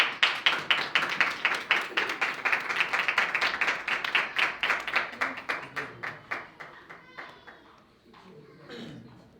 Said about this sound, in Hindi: जरा उसके लिए, यीशु के लिए जोरदार ताली